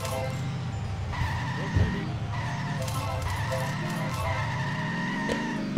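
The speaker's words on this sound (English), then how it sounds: "My car is going down the hill." Car from The Simpsons Hit & Run video game skidding down a hill, a steady engine drone with rising tire squeal sweeps, mixed with game sound and a voice talking over it.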